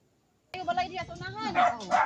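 Close, animated vocalizing starts suddenly after half a second of silence, with pitch swoops and yelps that could be an excited dog barking but sound just as much like a human voice.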